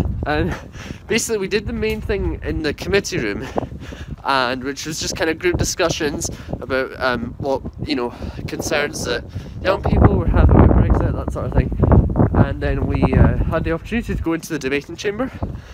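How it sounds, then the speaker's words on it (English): Gusty wind buffets the microphone outdoors after an evening visit to the Scottish Parliament, a steady low rumble that swells louder midway while someone talks continuously over it. "Oh, it's windy. Apologies about the wind."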